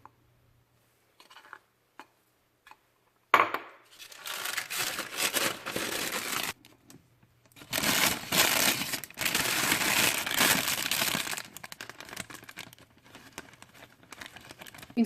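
Baking paper crinkles and crackles as flour is poured into it for bottled crêpe batter, loud bursts of rustling between short pauses, close and with no speech.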